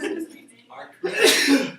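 A single sneeze bursts out loud and close near the end, following a moment of people talking and a throat-clearing sound.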